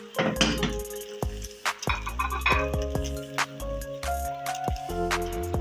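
A French country-style omelette flipped out of the pan onto a plate, with clattering pan and plate knocks and scraping utensil clinks in a busy cluster of sharp hits.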